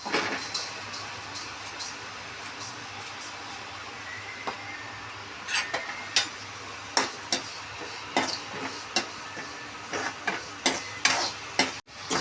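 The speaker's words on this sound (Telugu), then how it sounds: "చూడండి, నువ్వులు వేగుతున్నాయి కదా." Sesame seeds roast in a pan alongside urad dal for a drumstick-leaf spice powder, with a low dry sizzle at first, then a run of crisp, regular stirring scrapes and light crackles close by.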